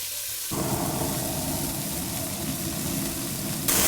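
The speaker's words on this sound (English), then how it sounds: "I'm gonna let these sear for a couple minutes on each side" Beef pieces searing in hot oil in a preheated pan, a loud steady broadband sizzle that swells suddenly at the start and flares again at the end, with no talking.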